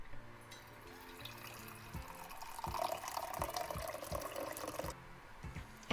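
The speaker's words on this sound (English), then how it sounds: "I just poured myself a coffee" Coffee poured into a cup at breakfast time, with a continuous trickle of liquid running for several seconds at low volume and nothing else competing.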